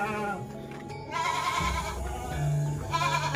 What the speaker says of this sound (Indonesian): ini kambing Jawa sedulur. Ini ada 3 ekor.